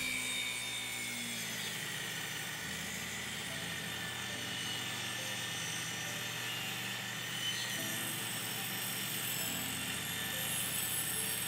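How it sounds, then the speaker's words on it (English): A power saw with its blade tilted to 45 degrees rips 24-inch wood segments diagonally for studio bass traps, giving a steady, close, continuous buzzing cut that holds at one level and never breaks. "angle your saw blade at 45 degrees with a wall on it so you can split each 24-inch segment diagonally"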